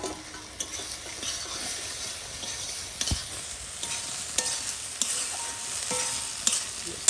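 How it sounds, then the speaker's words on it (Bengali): Fried fish pieces stirred into spiced masala in a pan, giving a steady close sizzle broken by sharp scraping clicks of a spatula against the metal, no voices. "মশলা আমার কষানো হয়ে গেছে, এবার এর মধ্যে ভাজিয়ে রাখা মাছ দিয়ে দিচ্ছি।"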